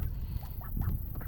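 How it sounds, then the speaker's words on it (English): Seven young ducks kept in a small makeshift pen give several soft, raspy quacks close by over a low rumbling background. "this is where I have my ducks right now"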